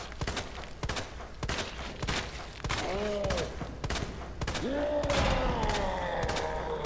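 Handgun fired repeatedly at a boss in Resident Evil 2 Remake, a steady string of sharp close shots at roughly even spacing, with a creature's groaning cries rising between them partway through.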